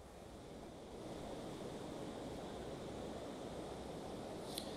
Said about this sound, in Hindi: पानी की रफ्तार देखेंगे तो आपको यहाँ पर पता चलेगा कि जिस प्रकार से पानी की रफ्तार काफ़ी तेज़ी से चल रही है